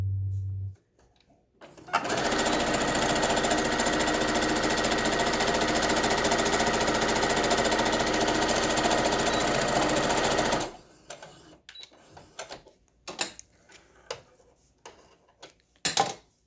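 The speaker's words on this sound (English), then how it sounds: "Now I'm ready to sew up this side, sew this seam, and then sew this seam." A sewing machine runs steadily for about nine seconds as it stitches a seam on a fabric face mask, a fast close mechanical whir, then stops, followed by scattered clicks and handling noises.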